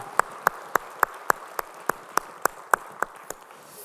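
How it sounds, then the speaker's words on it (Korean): Slow, evenly spaced claps ring out at a Korean church Sunday worship service, about a dozen sharp single hits in steady rhythm, moderately close with light room reverberation and no talking. "우리 주님께 영광의 박수 올리겠습니다"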